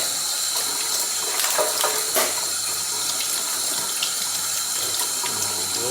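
Tap water runs steadily into a sink while a mud crab is cleaned, a close, continuous splashing stream with occasional clinks and handling noises.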